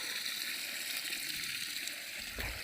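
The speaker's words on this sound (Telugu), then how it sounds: "చూడండి, వాటర్ వస్తున్నాయి ఇక్కడ." Water flows into a farm field, giving a steady, fairly quiet rushing hiss that continues without a break and ends in a brief low thump.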